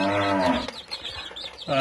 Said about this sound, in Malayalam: ഇവിടെ തൊട്ടടുത്താണ് തൊഴുത്ത് കേട്ടോ അപ്പോൾ പശു തൊള്ളിടുന്ന സൗണ്ടാണ് കേൾക്കുന്നത്